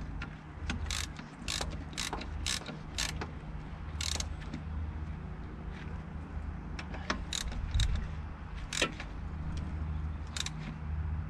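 Ratchet clicking in repeated bursts as bolts are tightened evenly on an aluminium housing sealed with instant gasket sealer, a boost-leak repair on a Mitsubishi L200 K74, heard close over a steady low engine-bay hum with no talk.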